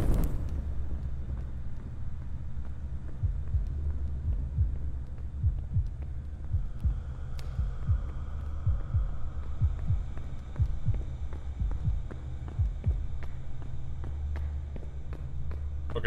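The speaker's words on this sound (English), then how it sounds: "I heard my heartbeat there" A heartbeat sound effect in a mummy's curse video game thumps in a slow, steady low pulse over a soft hum, repeating evenly for about ten seconds, with no talk over it.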